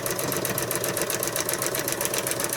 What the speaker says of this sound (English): start, do a little stay stitching